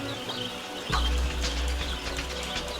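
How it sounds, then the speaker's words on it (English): Wild budgerigars, small nomadic Australian parrots, chirping in a flock: quick overlapping high tweets and chatter over a low steady background rumble, fairly close and continuous. "Wild budgerigars, or budgies, are social nomadic little parrots that come together in their hundreds to fly in lively, undulating flocks."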